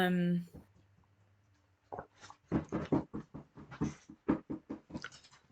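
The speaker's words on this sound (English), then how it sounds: "that's my dog's tail wagging and banging" A dog's tail wagging and thumping against something indoors, a series of irregular knocks and bumps over several seconds following a brief hum, close and fairly loud.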